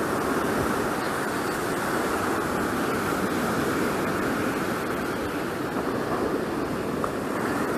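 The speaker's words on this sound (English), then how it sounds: "it's kind of nice watching the waves come in" Ocean surf rolling in at Saint Augustine Beach, Florida, heard as a steady, loud wash of broadband roar with no break and no voices.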